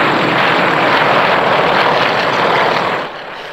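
Yak 52 and Nanchang CJ-6 propeller aircraft flying in an air race, a loud droning engine roar that holds steady, then fades sharply near the end.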